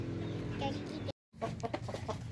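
Darag native chickens in Zaragoza, Nueva Ecija, cluck nearby in short bursts under a person talking, with a brief gap of silence partway through.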